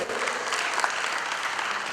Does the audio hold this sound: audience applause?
yes